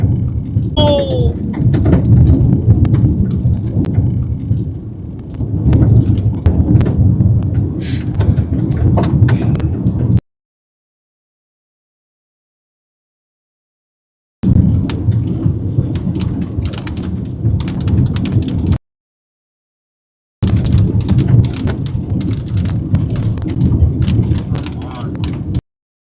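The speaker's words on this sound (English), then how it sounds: "I keep thinking we're gonna get out of the rain." Heavy rain pounds steadily during an Oklahoma supercell thunderstorm, with rumbling thunder mixed in, loud and close, cut by two stretches of silence before the downpour resumes.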